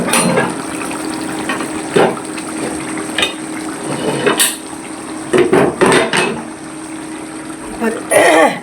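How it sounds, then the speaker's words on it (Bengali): Pressure cooker with meat being set on a stove, several clanking metal pot and lid knocks with scraping, some close and loud, over a steady background hum. "এবার প্রেশার কুকারে মাংস বসালাম।"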